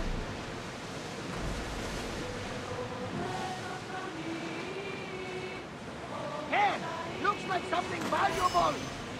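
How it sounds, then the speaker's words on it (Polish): Sea waves washing against a sailing ship in Assassin's Creed Odyssey, a steady broadband rush of surf and wind at moderate level, with brief creaks and tonal game sounds near the end while someone talks over it. "Aż się ciężko płynie, słuchajcie, normalnie czuć te fale fest."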